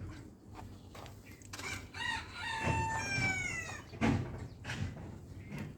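Chickens cluck and a rooster crows near a brooding hen, with bursts of fowl calls through the middle and a sharp knock partway, over steady background rustle.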